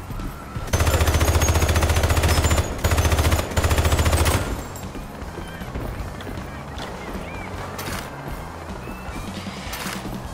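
Rapid automatic gunfire rattles loudly from a toy shooter video game in three bursts with short gaps, then gives way to quieter game ambience and scattered effects.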